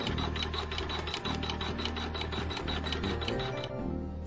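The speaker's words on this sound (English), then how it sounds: "it's going to stitch the stem stitch on this raw edge." Sewing machine stitching a stem stitch along a raw fabric edge, a fast, even mechanical rattle of needle strokes, close and continuous, easing off near the end.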